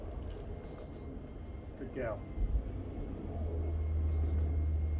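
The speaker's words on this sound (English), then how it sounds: "as she's returning, I'm blowing the whistle" A gun dog training whistle sounds in two quick bursts of three short, high toots, one early and one near the end, with a person's brief spoken praise between them over faint outdoor background.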